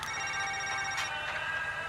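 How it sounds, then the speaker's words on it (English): A telephone rings in the video game Knee Deep, a steady electronic bell tone repeating through the short span over a faint low hum, with no voices. "The phone chimes again."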